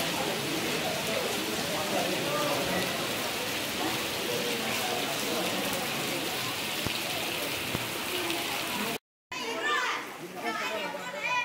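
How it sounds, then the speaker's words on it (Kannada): Heavy rain pours down near a temple in Bagalkot district, a dense, loud, continuous hiss, with children's voices and talk mixed in and a brief cut near the end. "ತುಂಬ ಜೋರಾಗಿ ಮಳೆ ಹುಯ್ತಾ ಇದೆ."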